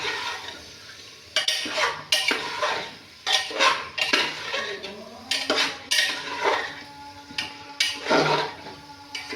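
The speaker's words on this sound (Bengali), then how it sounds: "সুন্দর মাংস হলুদ দিয়া নাড়ায় চাড়ায় নেবেন, মশলাগুলো ভালো করে মিশিয়ে নিতে হবে" Beef mixed with turmeric and spices is stirred in a pan, with repeated loud scraping and clattering strokes of a utensil against metal and a soft background sizzle, with no talking.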